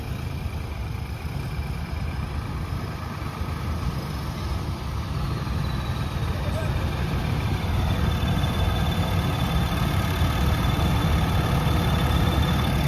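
A tractor engine idles and runs steadily while stuck in deep sand, a continuous low rumble that stays constant and slightly builds in loudness, with no talking over it.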